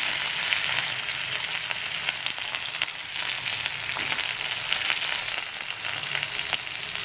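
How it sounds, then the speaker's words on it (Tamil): Onion, ginger and curry leaves frying in hot oil with cumin, a dense, steady sizzle and crackle throughout, close and loud, with no talking. "பாருங்கள் ஃப்ரெண்ட்ஸ், இந்த வெங்காயம் நல்லா பொரியுது."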